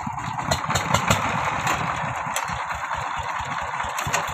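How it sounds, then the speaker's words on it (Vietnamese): A công nông farm truck's engine catches and settles into a loud, rattling idle, its rapid chugging pulses steady and close throughout. "Rồi bắt đầu nổ máy rồi nha mọi người."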